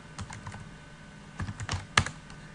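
Short Linux commands are typed on a computer keyboard, a quick run of close, soft key clicks followed by one sharper keystroke, with no voices.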